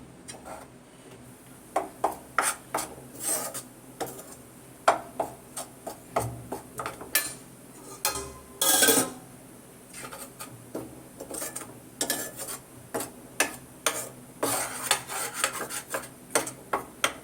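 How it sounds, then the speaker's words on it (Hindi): Gram flour dry-roasts in a pan without ghee while a spoon stirs it, giving irregular close ticks and scrapes against the metal, louder at times, over a low background hum. "सबसे पहले बेसन को बिना घी के भून लूंगी"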